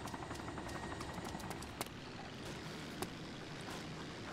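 Steady whirring rotor drone of a helicopter in the DayZ Fusion mod, continuous and moderately loud with a couple of faint clicks on top, no talking.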